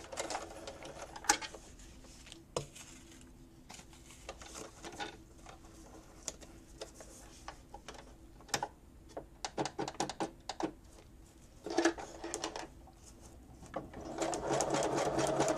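A sewing machine runs a straight stitch in short bursts of fast, even needle clatter separated by pauses. The sound is close but soft, with a louder whirring run at the end.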